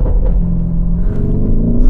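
A Lamborghini engine roars loudly from inside the car as it accelerates, a deep, continuous rumble whose pitch climbs gradually with no talk over it.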